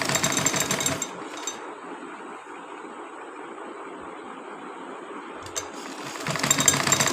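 Sewing machine stitching folded fabric: a fast, steady mechanical whir of the needle running continuously at close range, louder at the start and end, with no voices.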